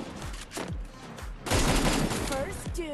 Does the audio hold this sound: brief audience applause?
no